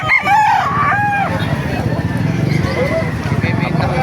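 Roosters at a chicken market in Calumpit, Bulacan, one loud close crow at the start followed by more crowing and clucking amid a busy crowd with people talking.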